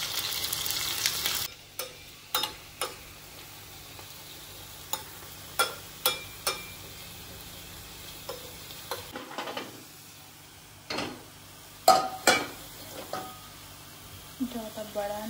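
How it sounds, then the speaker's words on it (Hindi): Hot ghee sizzles softly with cumin, onion, garlic and green chilli while a spoon clinks and scrapes in the pan at irregular intervals; someone speaks briefly. "इस पे छौंक लगा लेते हैं"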